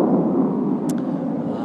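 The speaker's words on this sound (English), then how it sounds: "There's a jet flying over, so it's pretty noisy." A jet aircraft passes overhead outdoors as a steady, broad, loud roar that stays constant throughout, with a faint brief chirp partway through.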